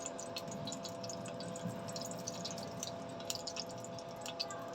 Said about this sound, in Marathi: त्याचं पाणी गाळून घ्यायचंय आपण